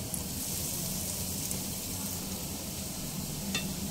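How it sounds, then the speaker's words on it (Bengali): Potato cheese balls fry in oil over a medium-low flame, giving a soft, even, continuous bubbling hiss that holds at a steady low level throughout. "মিডিয়াম লো ফ্লেমে ভেজে নিতে হবে।"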